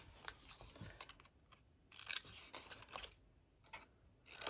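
Several quick snipping cuts of scissors through paper, close by and crisp, with short pauses between.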